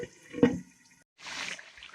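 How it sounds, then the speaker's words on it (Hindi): Water splashes into a cooking pot of Lahori murg cholay on the stove, a short pour and clatter followed by a pause, then a softer hissing, bubbling wash of liquid, close and moderately loud. "इस स्टेज पे आके मैं इसके अंदर थोड़ा सा पानी ऐड करूंगी"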